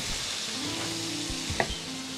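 Beef tripe masala for vuri vuna sizzles steadily in oil in a pan, a continuous close hiss with a light scrape or clink of stirring near the middle and a faint low hum underneath.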